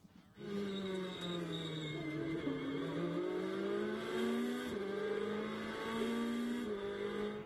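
A Ferrari GT race car at a Blancpain GT World Challenge race in Virginia accelerates on a restart, its engine note rising and falling through gear changes in a steady, sustained roar heard from on board.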